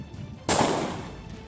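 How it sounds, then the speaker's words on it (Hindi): A single sharp pistol shot fired by a boy toward a courtyard cracks loudly, then leaves a short decaying echo. "सामने आंगन की तरफ पिस्तौल लेकर एक गोली चला दी।"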